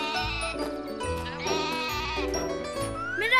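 A cartoon goat from the Turkish animated series Niloya bleats in a short, wavering, quavering call over light background music.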